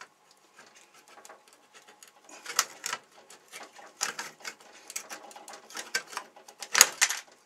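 A hand metal-cutting tool bites through 1 mm sheet metal in a run of crisp, rapid clicking and crunching snips, sparse at first, then denser and louder toward the end, heard alone.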